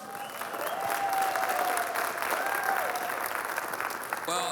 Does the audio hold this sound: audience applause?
yes